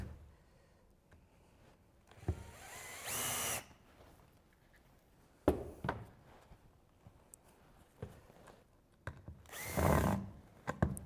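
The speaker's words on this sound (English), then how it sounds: "So I'm just going to drill in from this side just to make the holes" A power drill whirs in short bursts, biting into wood, with handling clatter and quiet pauses between each run.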